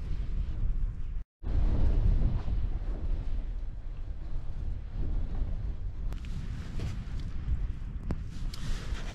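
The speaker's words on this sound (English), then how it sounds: "This wind's got up a little bit." Gusting wind at a solo wild camp in Snowdonia, Wales buffets the microphone in heavy rumbling bursts, loud and continuous, with a brief dropout early on and sharper flaps later.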